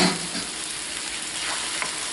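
Taco filling bubbles in a pan with a steady, close sizzle, with faint stirring scrapes under it and no voices.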